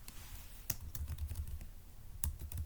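Quick irregular keystrokes on a computer keyboard, close and fairly quiet, with scattered sharper clicks over a faint room hum.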